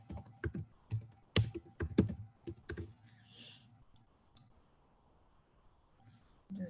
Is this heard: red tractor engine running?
no